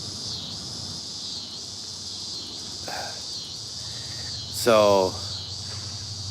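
Crickets and cicadas chirp together on a summer evening in a steady, dense, high-pitched drone, with brief louder insect calls breaking through near the end while someone speaks a word.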